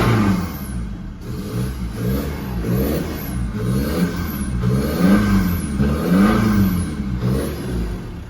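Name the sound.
Ford Ranger engine running rough with a misfire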